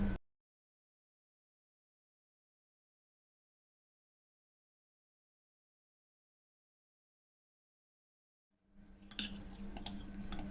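Metal spoon stirring a chana salad in a bowl with salt and squeezed lemon, heard as a burst of clinking and scraping that starts abruptly near the end after a long stretch of silence.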